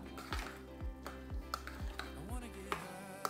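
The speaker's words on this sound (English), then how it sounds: "Mix together until everything is combined." A spoon scraping and clinking against a bowl while stirring garlic and olive oil, with repeated low swishing strokes in an even rhythm, close and moderately quiet.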